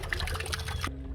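Water trickles and splashes steadily from a small angel water fountain along a garden path at a mansion estate, a soft continuous pour that cuts off abruptly near the end.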